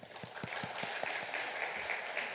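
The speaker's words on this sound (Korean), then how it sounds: "우리 박수 한번 하겠습니다" Church congregation applauding teachers, a steady wash of clapping throughout with a few louder individual claps near the start.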